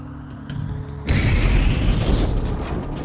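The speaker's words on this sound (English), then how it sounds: "The explosion was ferocious" A bomb explodes: a sudden heavy boom breaks through a quieter background and leaves a dense, rumbling roar that lingers for a couple of seconds.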